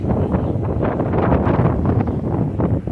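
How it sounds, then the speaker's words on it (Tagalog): Strong, steady wind roars and buffets the microphone, with a broad rushing sound that never lets up, like gusts tearing through tree branches. "Sobrang malakas ang hangin"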